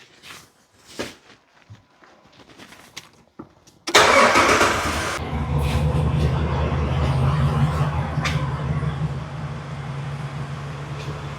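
A 2010 Jeep Grand Cherokee with warning lights on starts after a few faint clicks and shuffles: the starter catches in a sudden loud burst, then the engine settles into a steady, rumbling idle.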